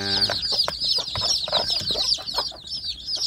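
Kampung hens with their newly hatched chicks cluck busily nearby, with soft hen clucks under a dense, continuous chorus of high chick peeping.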